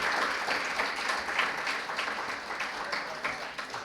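Steady audience applause at a valedictory programme for a residential journalism and mass communication workshop, a dense wash of many hands clapping that holds at an even level for several seconds with no talk over it.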